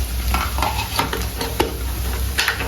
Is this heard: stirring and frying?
yes